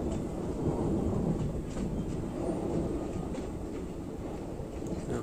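A train rolls along the Hubballi–Vijayapura line around a curve just before a bridge, giving a continuous low rumble and rattle of wheels on track that stays close and steady throughout, with no voices.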